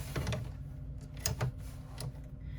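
A sewing machine runs a short stitch line for D-ring strap connectors on a channel clutch bag, giving a quiet mechanical whir with a few faint clicking bursts near the start and middle.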